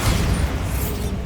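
A Bombarda spell explosion in the Hogwarts Legacy video game, heard as one loud, close, sustained booming blast with no talk over it.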